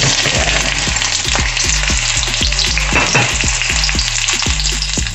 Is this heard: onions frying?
yes